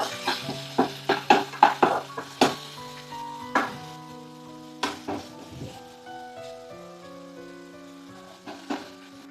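Eight cashews and a cup of tomato pieces stirred in hot oil for green masala egg curry, with a series of clattering spoon-on-pan knocks and ringing tones over a soft sizzle, busier at first and then sparser.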